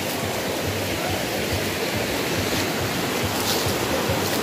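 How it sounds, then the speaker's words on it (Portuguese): A waterfall at a campsite gives a steady, dense rush of falling water, loud and continuous throughout with no pauses, and no voices over it. "A primeira coisa que eu tenho que mostrar é a cachoeira."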